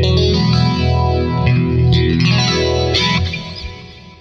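Ibanez electric guitar on the neck and middle pickup position, run through a Kemper rig; thick, sustained notes swirl with chorus and modulation, heavy effects and a slight echo, loud and alone before fading.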